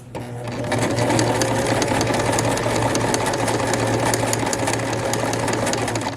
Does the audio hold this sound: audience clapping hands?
no